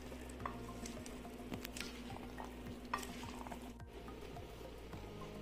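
Red bean chaat salad is tossed with its dressing, giving close, quiet wet stirring and patting sounds with soft repeated scrapes at a steady pace.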